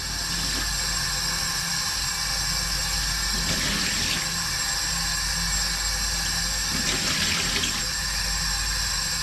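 Meat is rinsed under a running kitchen tap, a steady hissing stream of water with brief splashy surges as the meat passes through the flow.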